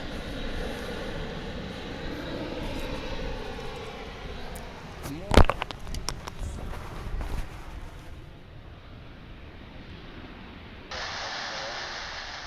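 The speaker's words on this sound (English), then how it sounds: "More airplanes." Airplanes at DFW International Airport produce a distant, continuous engine rumble and roar, with a sharp clicking knock midway and a short hiss near the end.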